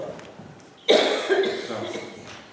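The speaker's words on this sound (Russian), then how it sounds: "Не стесняйтесь, если покашляете, покашляйте." Coughing in a church congregation during a service: a single close, loud cough bursts out after a quiet moment, followed by a ringing decay and faint throat noise in a reverberant hall.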